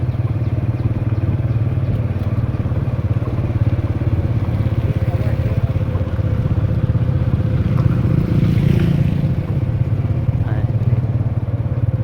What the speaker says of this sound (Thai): ขี่รถบ่เป็นระเบียบขี่ส่วนทางกันอยู่ทางกัน